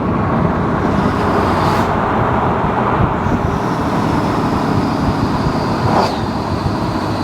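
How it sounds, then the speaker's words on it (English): A diesel pickup truck's engine drones under steady road and exhaust noise as its exhaust brake engages, with a few brief high whistling whines rising above it, loud and continuous with no talking. "Now listen to the exhaust brake."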